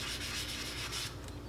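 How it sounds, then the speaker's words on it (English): Steady rhythmic rubbing of sandpaper against a small hard polymer clay jewelry piece, a close, soft scratchy hiss repeating in quick strokes. "So I will just finish sanding all the rest of the pieces"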